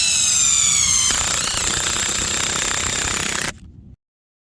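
A power driver sinks a 12-inch lag stake into the ground for a Kodiak Canvas tent, a loud continuous whining motor with a rising strained pitch that shifts about a second in, then cuts off abruptly near the end.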